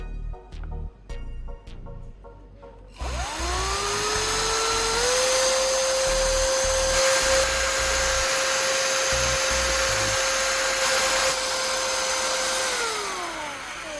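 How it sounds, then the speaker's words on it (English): After a few sharp clicks, an electric drill fitted with improvised blades whirs up to a steady, loud high-pitched whine while stirring a mix of silicone and thinner, then winds down near the end. "I quickly lock everything securely into the chuck of the electric drill, ready to perform and amaze with its efficiency"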